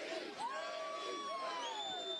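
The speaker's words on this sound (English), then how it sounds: "So she'd never be accused of not being able to get the crowd going there, Gene." A large street crowd at the New England Patriots victory parade cheers and whoops, with shrill shouts and whistles rising over a steady, dense roar of many voices.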